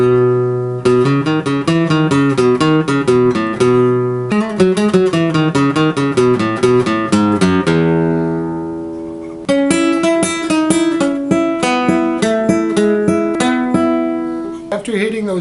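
A guitar lick played at full speed: quick runs of bright picked notes in fast bursts, with a short pause before a final rapid phrase, loud and close with no voices.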